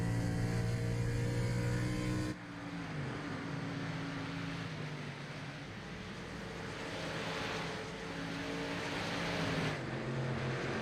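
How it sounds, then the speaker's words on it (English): A kart-series race car at Rockingham Speedway drops its engine note as the driver clutches in and shuts the engine off heading into a turn, leaving a steady, fairly distant engine drone and wind-like rush with no one speaking. "You can hear him clutching it, shutting that engine off."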